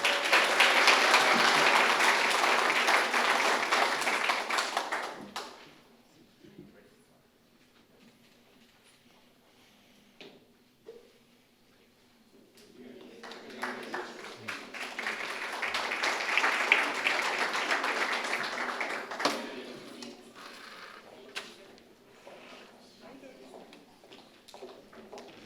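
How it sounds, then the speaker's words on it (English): Applause at a San Benito CISD school board meeting honoring the dyslexia staff: a burst of clapping that fades out after about five seconds, a quieter room with some murmur, then a second longer round of clapping swelling and trailing off. "let's give a round of applause to our dyslexia staff of San"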